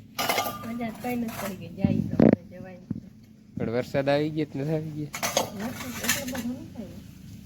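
Metal pots, pans and utensils clink and clatter while being scrubbed and washed, with intermittent knocks and rattles under a person speaking nearby.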